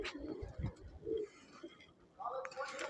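Pigeons coo on a rooftop bird farm in Pakistan, soft low throaty calls repeating close by with some background noise and a brief rustle at the end.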